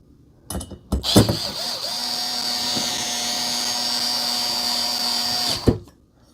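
Lightweight electric screwdriver driving screws into a desk mount: a few short clicks and clatters, then a loud, close, steady whirring motor run lasting several seconds before cutting off sharply.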